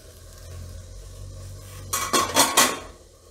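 A metal lid is lifted off a cooking pot of steamed Gujarati kapuriya, giving a short burst of close clattering and clinking after a quiet stretch, with no talking.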